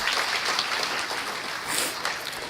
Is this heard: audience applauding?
yes